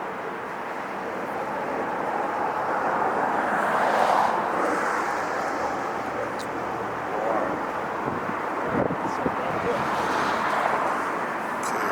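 Aer Lingus airliner taking off at LAX, a steady broadband jet roar that holds for the whole stretch, mixed with wind buffeting the microphone.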